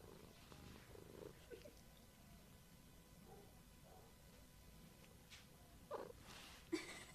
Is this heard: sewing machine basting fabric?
no